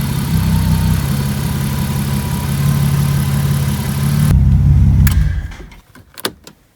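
A BMW E36 with an M50 engine, recently maintained and used for drifting, idles smoothly with a steady low rumble before it is shut off, followed by a few sharp clicks and a door-like thud.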